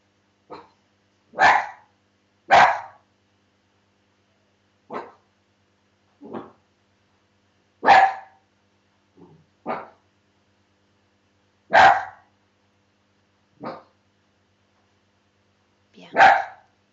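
A dog barking in a quiet room, about a dozen separate sharp barks spaced a second or two apart, some louder and some softer, with nothing else in between.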